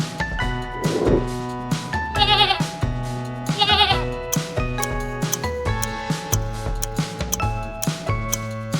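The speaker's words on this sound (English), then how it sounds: "Goat!" A goat gives several loud, wavering bleats close by, spread across a steady rhythmic ticking background.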